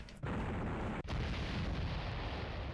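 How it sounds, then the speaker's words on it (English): Continuous roaring explosions from a Sega CD video game fill the moment, loud and dense, with a brief cut-off near the start and another after about a second before the rumbling blasts resume. "if you like explosions, they happen constantly"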